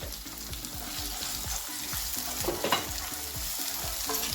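Tomato and onion being stirred in a frying pan with salt, a busy sizzle under repeated scraping strokes of a spoon against the pan, close and steady with no talking.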